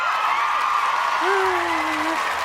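A crowd applauds in a dense, steady, continuous wash of clapping that lasts throughout, with a voice speaking briefly over it.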